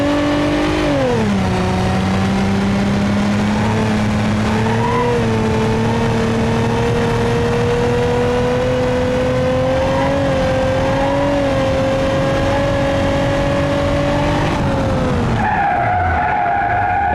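A 2.8 liter V6 taxi car in BeamNG.drive revs and drones steadily with tire skidding, engine pitch dipping early then holding and slowly rising before cutting off near the end, loud and close with no talk.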